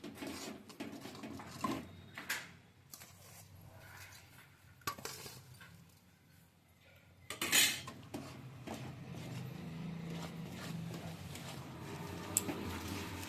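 Sesame seeds being stirred into jaggery in a pan for til naru, a quiet scraping with scattered clinks of a utensil against the metal, one sharper knock partway through.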